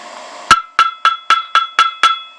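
Hammer blows on metal over an anvil while blacksmithing ring out as seven sharp, loud metallic strikes in a steady quick rhythm, each with a bright ringing tail, after a brief lower rumble of preceding noise.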